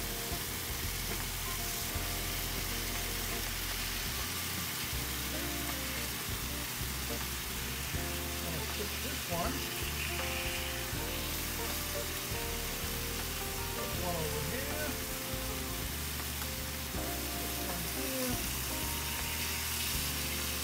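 Sous-vide pork chops sizzling on a griddle, a steady, dense frying hiss that runs unbroken and fairly loud throughout, with faint speech over it at times.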